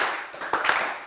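Applause from a TV word game show studio audience, a brief burst of clapping that starts thin, swells to a denser patter, then fades within about a second.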